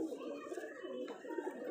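A pigeon coos softly nearby, low throaty calls mixed in with someone speaking over it throughout.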